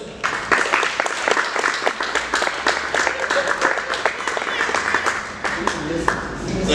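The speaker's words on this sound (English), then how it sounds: "Guys, give a huge round of applause." A crowd applauds a stand-up comedian being introduced, dense clapping with sharp individual claps standing out, continuous and fairly loud for nearly seven seconds.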